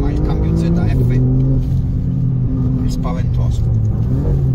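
An Alfa Romeo Giulia Quadrifoglio engine revs loudly and close, its deep tone climbing and falling in pitch through several surges, with someone talking over it.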